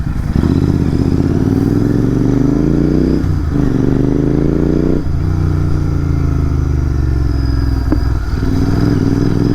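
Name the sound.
Royal Enfield Continental GT650 motorcycle riding and racing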